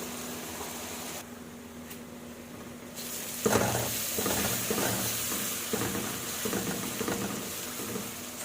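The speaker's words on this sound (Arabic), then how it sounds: "انا مش بحمر البصل، انا يا دوبك بس بدبله." Onions softening gently in a pan for stuffed vegetables, a steady low sizzle with stirring scrapes in the second half, close and moderately loud, no talking.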